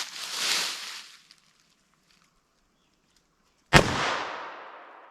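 A .38 Special wadcutter round fired into clear ballistic gel gives one sharp, loud report that rings out and decays. A brief hissing burst comes before it, with near silence in between.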